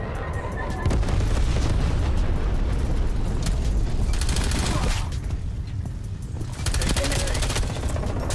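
A Semtex grenade blast in Call of Duty Cold War multiplayer lands amid heavy, continuous gunfire and explosive rumble, loud and dense throughout, with faint voices mixed in.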